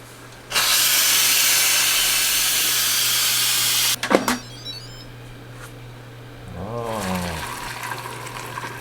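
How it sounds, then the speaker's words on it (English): Steam hisses loudly from a cooker vented under a towel, a strong steady rush lasting several seconds that cuts off abruptly, followed by a few clicks and a quieter stretch with a brief sound near the end. "I usually put a towel over and then release the steam."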